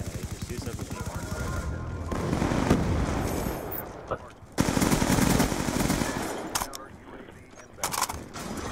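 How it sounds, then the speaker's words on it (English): Machine gun fire in Black Ops 2 gameplay, dense bursts of rapid shots with gaps between them, loud and close, over game ambience. "Okay, just use the machine gun."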